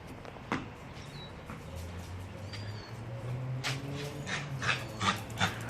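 An old 13-year-old dog whimpers and yips in short, thin bursts outdoors, the cries rising over a low steady hum and scattered rustling, fairly close and moderately loud.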